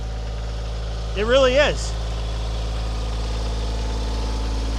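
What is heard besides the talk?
Kioti 25 horsepower tractor engine idling with backhoe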